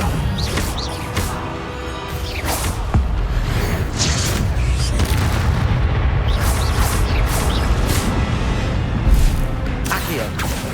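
Incendio fire spell blasts in Hogwarts Legacy hit amid combat, repeated loud whooshing bursts and booms over a constant rumbling battle din with clashing spell impacts.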